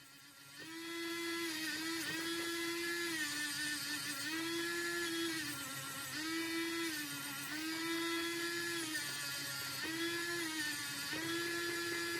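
A small high-pitched rotary tool whines steadily while polishing the wheels of a Corgi Chevrolet Corvair model car, rising and dipping in pitch in repeated cycles against the surface.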